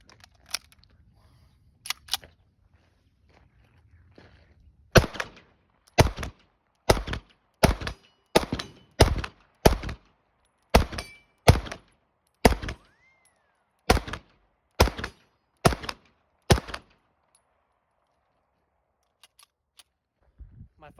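A CZ Shadow 2 pistol fires about fifteen sharp, loud shots at a shooting range in a steady rhythm roughly every half second, with quiet pauses before and after the string.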